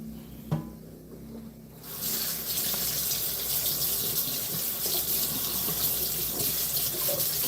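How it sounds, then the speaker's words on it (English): Water from a kitchen tap gushes steadily into a sink while a spoon is rinsed, a loud close continuous rush that begins after a brief clink and keeps running. "I had to rinse my spoon"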